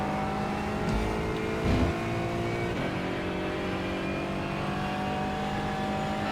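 An Aston Martin GT4 race car at Watkins Glen in iRacing, its engine holding a steady droning whine at sustained revs with a brief surge and a faint shift-like blip, with no talk over it.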